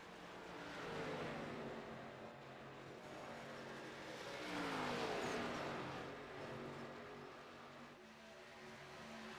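Race cars in an ARCA Series event at Indianapolis approach and pass in two distant swells of engine roar, the second passing louder before fading back.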